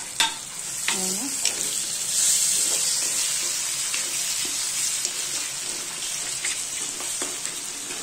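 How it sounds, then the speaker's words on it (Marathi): Washed tomatoes fry in oil with turmeric in a home kitchen, giving a steady close sizzle and hiss with a few clinks and scrapes of stirring throughout. "चांगला टोमॅटो तेलात शिजू द्यायचा थोडा।"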